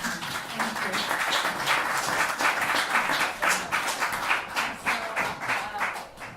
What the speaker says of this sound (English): So look at big round of applause for Trey.